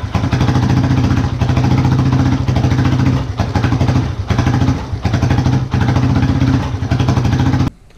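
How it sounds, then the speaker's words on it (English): A motorcycle engine idles loudly and close after an idle adjustment with the fuel mixture set slightly rich, a steady throbbing run broken by brief dips and blips of throttle before it cuts off at the end. "Get my idle adjusted."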